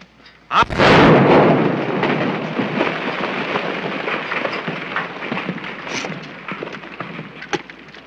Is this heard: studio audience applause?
no